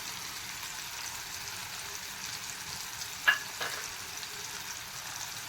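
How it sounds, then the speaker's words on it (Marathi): Tomatoes frying with onion and masala in a pan for a Malvani tomato bhaji, a steady, even hiss of sizzling throughout, with one or two brief taps of a spoon midway. "टोमॅटो चांगला भाजून घ्यायचा आहे"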